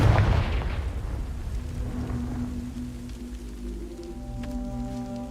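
A Confringo blasting spell in Hogwarts Legacy explodes with a loud low boom at the start, then a rumbling decay fading into sustained musical tones and ambience.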